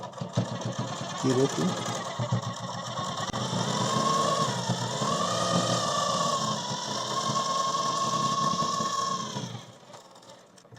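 An electric sewing machine runs a steady stitching line along a kurti seam, a continuous close whir with a slight pitch wobble that lasts about nine seconds before stopping, with a voice speaking briefly at the start.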